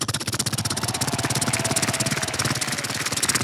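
A helicopter roars loud and close, its rotor beating in a steady rapid chop over a deep engine drone that holds throughout with no voices.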